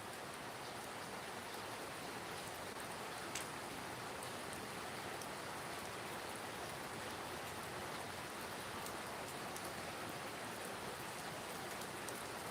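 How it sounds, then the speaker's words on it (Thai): Steady rain falling outside at a forest temple in Surin, Thailand, a continuous even hiss of drops with no pauses and no voices. "ด้านหน้าแต่บังเอิญฝนตก"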